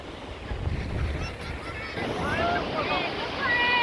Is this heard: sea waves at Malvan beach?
yes